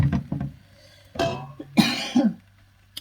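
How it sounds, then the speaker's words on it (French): Coughing from someone cooking crêpes amid stove steam and fumes, a few rough bursts in separate fits, close and moderately loud, with quiet gaps between them. "les fumées, là, ça me fait tousser des fois."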